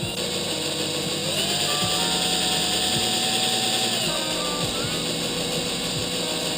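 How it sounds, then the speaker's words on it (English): A power drill whines steadily as it drills out a metal oil distribution part for a turbocharged Honda Civic B16 engine, its pitch dipping and rising as it bites, with continuous mechanical noise throughout. "Now we're gonna have to drill this out some more."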